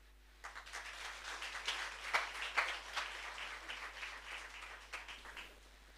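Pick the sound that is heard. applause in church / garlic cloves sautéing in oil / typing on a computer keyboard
applause in church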